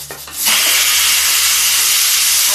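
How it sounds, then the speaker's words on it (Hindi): A loud, steady sizzling hiss rises sharply and holds as ajwain (carom seeds) crackle in hot oil in a home kitchen, with no talk over it. "देखिए अजवाइन तड़क गई है"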